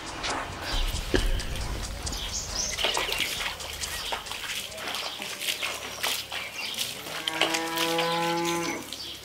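A cow lets out a loud, drawn-out moo close by near the end, a low tonal bellow following a stretch of farmyard background noise.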